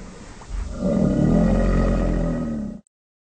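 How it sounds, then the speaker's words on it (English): Deep, rasping roar-like growl presented as a crocodile call, rising after a softer start into a sustained loud rumble of about two seconds before cutting off abruptly. "What sound does the crocodile make?"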